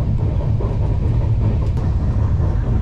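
Tejas Express train 22671 between Chennai Egmore and Madurai running at high speed, heard from on board as a loud, continuous deep rumble with steady rattling and no voices.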